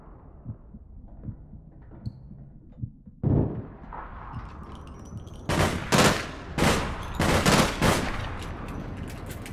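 Gunfire in the online shooter APB Reloaded, starting as soft thumps and then breaking into a series of loud, sharp bursts in quick clusters, up close during a firefight.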